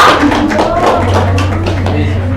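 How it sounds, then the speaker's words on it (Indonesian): Classmates clapping for two students, Diva and Nisa, after a primary teacher-training microteaching lesson, a short burst of close, loud applause mixed with voices talking over it. "Tepuk tangan buat Diva dan Nisa"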